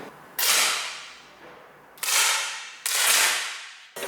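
Shots fired at an indoor shooting range, three loud sharp cracks spaced a second or so apart, each with a long reverberant decay, followed by the start of a fourth at the end.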